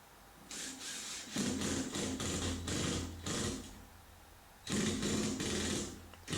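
Drill driver backing screws out of the center pieces of a large drywall patch, several bursts of whirring motor spinning, loud and close with short pauses between runs and a longer gap before the last burst.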